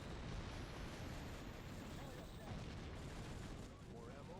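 A grenade blast in a PS2 video game, a broad, rumbling roar of noise that fills the whole stretch at a steady, moderate level and trails off slightly near the end.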